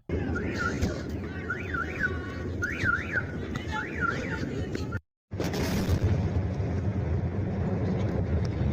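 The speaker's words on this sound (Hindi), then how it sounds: "क्या भयानक धमाका है भाई" A warbling air-raid siren wails, then cuts out. A sudden loud missile explosion follows and leaves a heavy, sustained roar.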